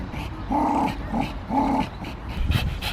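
Malinois dogs growl while playing, giving a series of close, low rumbling growls in short bursts with brief pauses between them. A faint whimper follows near the end.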